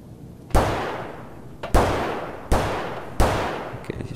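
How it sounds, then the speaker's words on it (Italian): Gunfire in the Escape From Tarkov shooter game: four loud, sharp shots spaced roughly a second apart, each with a long echoing decay, plus a fainter pop near the end. "sparano ovunque."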